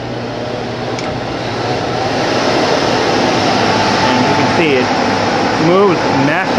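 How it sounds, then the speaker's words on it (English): Blower on a homemade computer cleaning machine running with a steady whooshing hum and low tonal drone, close by; faint voice-like warbles appear near the end. "And I'll start the blower up so you can hear it run."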